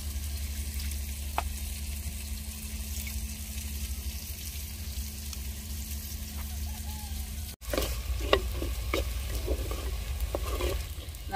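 Onion, ginger and garlic sautéing in a pan for a small-onion fish curry, a steady close sizzle with stirring scrapes and a brief interruption partway through; no talk.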